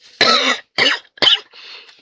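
Three sharp, close coughs in quick succession, followed by a softer breathy exhale.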